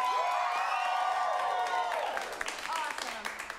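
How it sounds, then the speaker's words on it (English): A studio audience at an improvised comedy show cheers and whoops together in a loud burst that gradually fades, with scattered clapping and shouts trailing off. "So let me hear you cheer."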